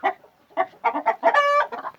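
Chicken clucking up close in a run of short, loud clucks, rising into one longer sustained call before a few more quick clucks.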